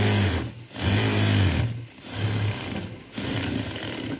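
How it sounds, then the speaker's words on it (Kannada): Close, loud whir of a sewing machine stitching a slit in cloth for a lined garment with piping, running in several bursts broken by brief pauses. "ಆಗ ಇದನ್ನು ಈ ಕಡೆ ಸ್ಲಿಟ್ನ ಸ್ಟಿಚ್ ಹಾಕೊಂಬಿಡಿ"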